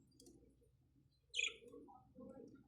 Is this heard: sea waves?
no